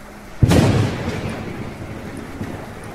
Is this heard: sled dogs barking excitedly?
no